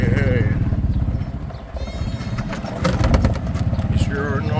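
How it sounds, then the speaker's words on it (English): Hungry goats bleat on a farm, repeated wavering calls heard close by over a steady low engine rumble from a Ford 650 tractor. "those goats say they're hungry"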